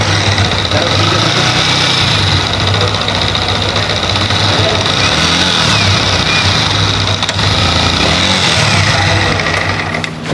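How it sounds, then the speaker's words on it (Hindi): A new Yamaha MT-15 motorcycle starts up and settles into a steady idle, its low engine rumble continuous and close throughout, with a faint rattling texture over the hum. "तो एक बार हम गाड़ी को स्टार्ट करेंगे और इसका हम आपको एक बार साउंड सुनवाएंगे"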